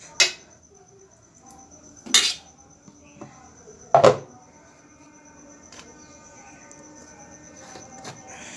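Dal puris stuffed with chana dal being served onto a plate, with three distinct clinks of dishes spaced a couple of seconds apart, then a quiet room.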